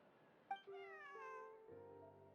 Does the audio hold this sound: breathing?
no